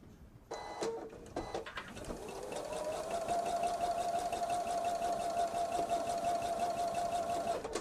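Sewing machine stitching in the ditch on a jelly roll fabric bag, a few short bursts of stitching, then a steady, close, continuous whirring run of stitching to the end.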